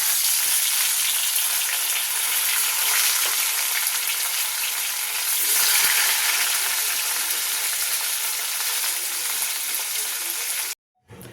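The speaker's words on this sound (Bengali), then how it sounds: "এবার একটা একটা করে মাছ ছেড়ে দিচ্ছি কড়াতে।" Bhola fish fried in hot oil in a wok give a loud, dense, continuous sizzle up close, with faint stirring rattles inside it, before the sound cuts off abruptly near the end.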